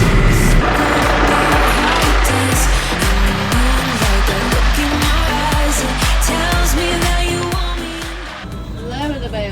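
A tractor on a farm, working near and loud with a steady engine drone and rattling, squeaky bumps from the bouncy cab, while people talk over it throughout.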